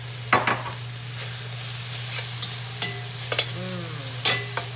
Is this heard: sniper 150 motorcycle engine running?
no